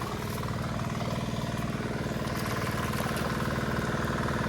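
A tractor engine runs steadily close by on a muddy Konkan rice-planting road, a loud continuous rhythmic chug with no talk.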